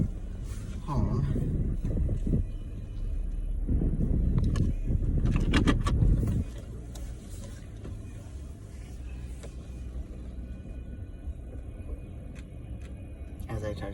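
A car drives along with a steady engine rumble and road noise, louder in the first half and then settling into a quieter, even cabin hum, with brief clicks and handling sounds.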